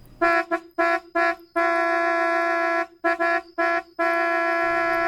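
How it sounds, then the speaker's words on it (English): A car horn honks in a series of short blasts followed by one long sustained blare, then more quick honks and another long blast, loud and close. "The horn honks obnoxiously."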